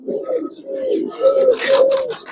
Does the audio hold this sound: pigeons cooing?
yes